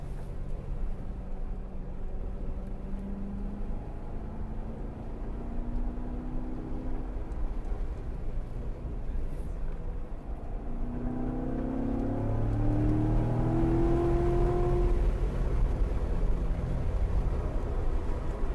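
A C7 Corvette Z51 laps the Autobahn Country Club race track. Its engine drones steadily and close, with revs climbing and easing through the run and no voices.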